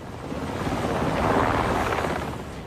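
Helicopter hovering over open sea in the Atlantic Ocean as soldiers drop down, a steady, loud rotor and engine roar holding for a few seconds with wind rush, swelling slightly in the middle.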